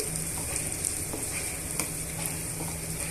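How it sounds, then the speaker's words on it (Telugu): Onion, green chilli and peanuts frying for upma crackle in a steady, dense sizzle, with small spatters and occasional light stirring, close and continuous. "ఈ ఉల్లిపాయ ముక్కలు పచ్చిమిరపకాయ ముక్కలు పల్లీలు బాగా వేగి వేగనివ్వాలండి"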